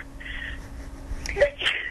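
A single sharp sneeze bursts out near the end, preceded by a brief breathy intake, against a quiet room hum.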